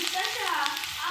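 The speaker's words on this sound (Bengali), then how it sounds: "তেলের ওপরে কুচানো পেঁয়াজগুলো দিয়ে দিচ্ছি" Chopped onions hit hot oil in a wok, giving a steady, close sizzling hiss with a crackly texture that holds at an even level throughout the short stretch, with no talk over it.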